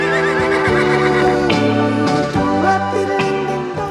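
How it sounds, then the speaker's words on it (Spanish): An Icelandic horse neighs in a long, loud, quavering whinny out in the Icelandic countryside, its voice rising and falling in pitch over several seconds, close by and with no talking. "Veríamos muchos caballos a lo largo del país pastando en libertad"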